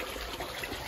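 Water from a DIY three-layer filtration pipe pours steadily into a tarp-lined backyard pond, making a continuous close splashing gush with no voices.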